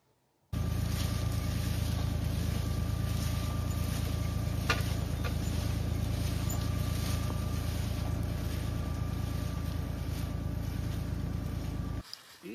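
A tractor-driven Egedal weeding machine works a strawberry field, giving a continuous low engine rumble with mechanical rattle that starts abruptly and cuts off near the end, with no talking.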